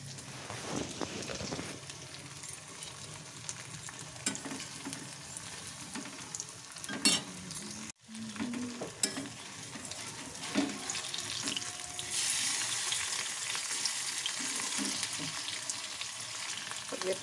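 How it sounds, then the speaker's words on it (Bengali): Full-cream paneer fries in hot oil on a gas stove with the flame turned up, giving a quiet, continuous sizzle with occasional clinks of stirring and a brief rush of running water. "গ্যাসের ফ্লেমটা একটু বাড়িয়ে দিই, পনিরটা তাড়াতাড়ি ভাজা হয়ে যাবে"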